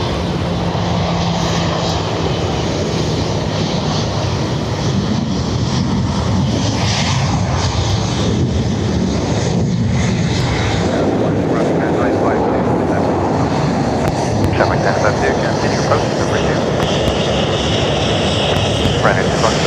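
A Qatar Airways Boeing 777 with a blown tyre lands at Dublin Airport, its broad jet roar holding steady and loud for the whole stretch, with radio chatter running underneath.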